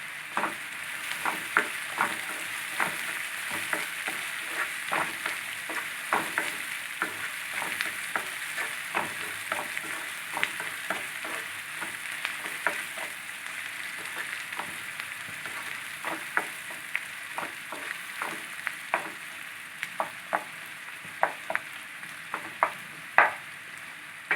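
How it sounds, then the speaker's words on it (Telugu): Onions sizzling in a pan for a phool makhana curry, a steady, fairly quiet fry broken by frequent scraping stirs that recur in a loose rhythm, with no voice. "ఉల్లిపాయలు కొంచెం రంగు మారే వరకు వేయించుకోవాలి"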